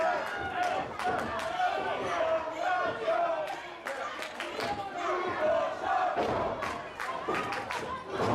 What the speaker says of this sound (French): On entend la foule scander au champion.